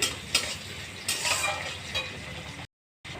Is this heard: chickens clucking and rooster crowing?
no